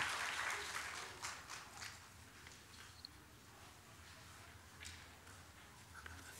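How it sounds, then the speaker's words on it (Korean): Applause from a church congregation indoors, loudest at the start and then thinning to a softer patter of scattered clapping. "박수하겠습니다"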